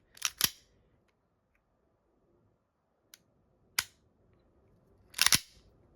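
Crisp mechanical clicks from a Hi Capa airsoft pistol trigger being pulled, a few sharp snappy bursts including doubled clicks, separated by quiet gaps, close and fairly faint.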